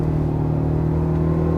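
A 2025 Toyota Tacoma Hybrid pickup runs at full throttle on the highway, its piped-in engine sound a steady, loud low rumble and drone heard from inside the cabin.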